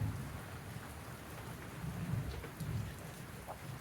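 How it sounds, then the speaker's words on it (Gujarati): A steady rain shower pours outdoors during a long morning downpour, a soft, constant wash of drops on surfaces with faint low rumbling underneath and no voices. "હા, વરસાદ બંધ થયો નહીં. વરસાદ ચાલુ જ છે."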